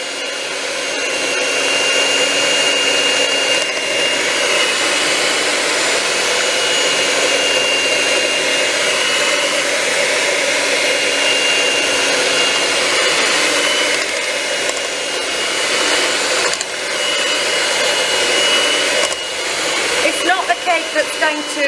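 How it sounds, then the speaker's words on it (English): Gingerbread batter with eggs, ginger and lemon rind is whisked with an electric mixer: a loud, steady motor whir runs almost unbroken throughout, with a brief dip and some choppier whirring near the end. "Make sure it's all well whisked in."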